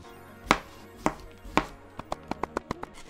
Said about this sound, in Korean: 먼저 오이를 칼질을 한번 해보도록 하겠습니다.